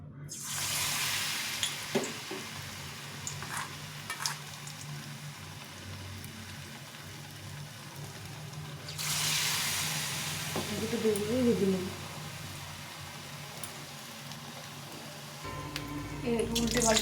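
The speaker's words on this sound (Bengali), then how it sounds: "এখন এই ব্যাটারটার মধ্যে ডুবিয়ে ভালো করে পুরটাকে ডুবিয়ে নিয়ে এটাকে ভেজে নিতে হবে" Battered stuffing sizzles as it fries in hot oil, giving a steady hiss that swells into a louder burst partway through, with a few clinks and faint background sounds.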